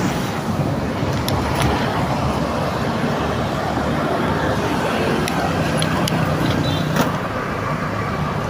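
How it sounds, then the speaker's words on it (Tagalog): A large truck passes on a busy road near an airport, a loud continuous engine rumble and roar of traffic with the vehicle close by throughout. "Lalaki pa naman na truck dumadaan."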